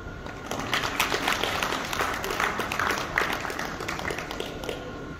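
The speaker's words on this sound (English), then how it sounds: "everyone, put your hands together. Can we all applaud for PowerTrack Euro 55 Powerhouse" An audience claps steadily at an Indian tractor awards ceremony for the winner of best tractor in the 51 to 60 horsepower class, a dense, even wash of applause running nearly five seconds after a brief quiet start.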